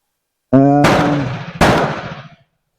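Two sharp gunshots from an M4 rifle being sighted in with a green laser, under a second apart, each a loud crack trailing off into a short echo outdoors.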